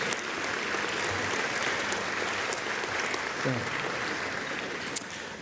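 Sustained applause from a homecoming luncheon audience greets a university student rock ensemble, a thick, steady roar of clapping that carries on throughout, with a short voice breaking through near the middle.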